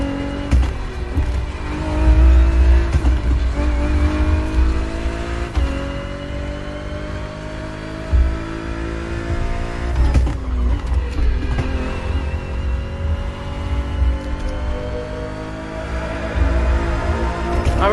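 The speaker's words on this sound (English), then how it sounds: "It's a weekend racing car." A very light weekend endurance racing sports car drives at speed with a loud, steady engine drone that rises through the gears, with brief dips between shifts.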